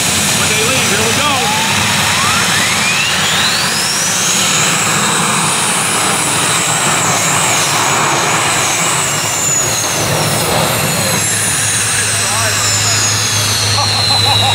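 A jet engine roars steadily and loudly, with a high whine rising in pitch over several seconds, while a voice speaks faintly underneath.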